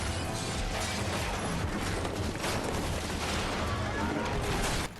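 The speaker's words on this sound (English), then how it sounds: "the rude arrival of the helicopter's gunfire wreaking havoc on the train's carriages" Dense, continuous rapid gunfire from a helicopter in a video game, with crashing impacts on train carriages, fills the whole stretch, loud and chaotic, cutting off abruptly at the end.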